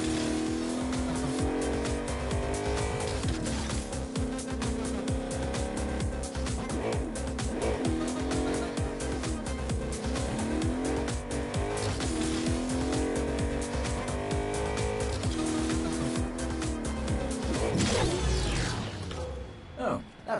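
In the video game Agents of Mayhem, a car engine revs and roars continuously with rising and falling pitch and bursts of tire squeal, loud and close with game effects layered over it.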